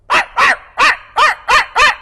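A man imitates a big dog barking, giving six evenly spaced, loud, gruff barks in about two seconds.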